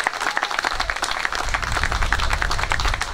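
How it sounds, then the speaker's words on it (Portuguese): A crowd at a marching band's summer picnic in Winnipeg breaks into applause, close, crisp individual claps building into a lively, uneven patter that grows fuller over a few seconds. "Uma salva de palmas então a todos."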